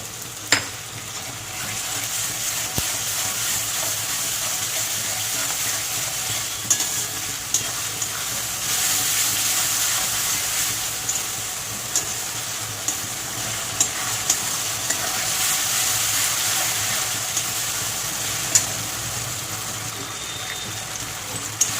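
Ginger and garlic paste frying in a pan for ghugni hisses in a continuous close sizzle, with occasional soft stirring scrapes and small pops, swelling slightly at times, with no talking.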